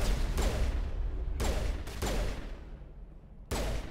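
Turret gunfire in Mass Effect 1, heard as loud, close, sharp bursts at irregular intervals with decaying tails between shots and no talking.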